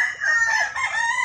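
A rooster crowing once, close and clear, a single sustained cock-a-doodle-doo.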